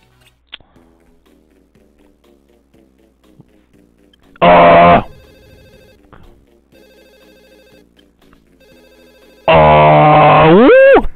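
A phone rings loudly in the Nintendo DS game Totally Spies! 2: Undercover, with two harsh electronic buzzing bursts separated by several seconds. Quiet game music runs underneath.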